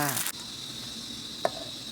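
Pork and vegetables such as kale are stir-fried in a wok with a continuous, close sizzle, opening with a brief clatter and broken by a single sharp tap of a utensil.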